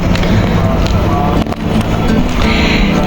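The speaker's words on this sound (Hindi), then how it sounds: "यहाँ बिल्कुल ठंडा मौसम हो गया है, हवा चली हुई है" Wind blows across a rooftop in cold, rainy weather, buffeting the microphone. It makes a loud, continuous rushing roar with brief gusty dips.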